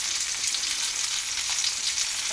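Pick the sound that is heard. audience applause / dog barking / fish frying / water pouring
fish frying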